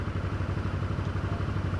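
A Suzuki V-Strom 1000 motorcycle engine runs steadily on a test ride, a low throbbing pulse with faint clatter, close and constant with no talk.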